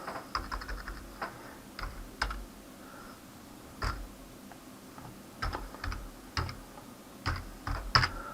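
Typing on a computer keyboard while coding a one-page website, with quiet clustered key clicks in irregular bursts and short pauses, close and fairly soft.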